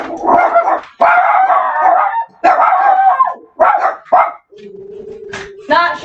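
Several dogs bark loudly and close up in a single-wide trailer, in repeated bursts of harsh yaps and barks, with a short gap near the end where a low steady hum sits alone before the barking starts again.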